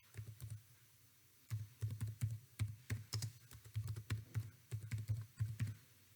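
Someone types code on a computer keyboard, a quiet run of crisp key clicks in uneven bursts with a brief pause early on, heard alone without talk.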